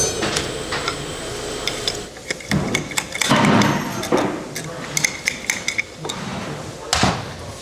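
Metal parts clink and knock as a seal retainer is pried off a Linde BPV-200 hydraulic pump during a teardown, with scattered sharp taps and scrapes, a louder burst of handling mid-clip, and no talk.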